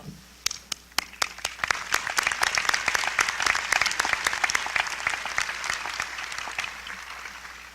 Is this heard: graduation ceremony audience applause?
yes